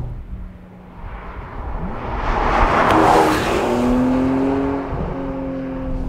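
A Porsche 718 Boxster Spyder drives past outside, its engine note rising as it approaches, peaking loudly midway and then holding a steady tone as it pulls away.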